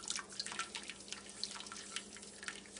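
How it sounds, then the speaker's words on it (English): Hot lye solution is poured slowly into hot oils for stick blender hot process soap, a faint, close trickle broken by scattered little drips and splashes. "Slowly pouring my lye in."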